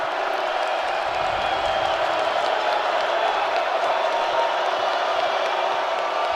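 Idaho Vandals home fans fill a college football stadium during a game against Utah Tech, producing a steady, even crowd roar with scattered cheers and whoops throughout, heard from a distance with no single voice standing out.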